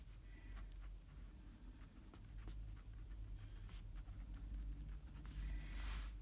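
A black TOMA 504 fountain pen with a fine stainless steel nib scratches across paper in close, continuous small strokes, faint and steady with light repeated ticks.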